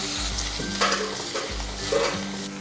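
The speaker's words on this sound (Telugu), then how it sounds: "ఈ టమాటాలు సాఫ్ట్గా అయ్యే వరకు వేయించుకోవాలి." Thin tomato slices frying in a pan, a steady close sizzle broken by a few low scraping stirs, with no talking.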